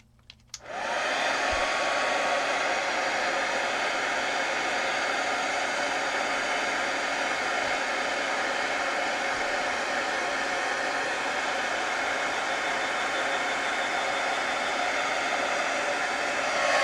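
A heat gun switches on after a brief quiet moment, then blows hot air for embossing powder. A loud, steady whooshing roar continues without a break and no voices are heard.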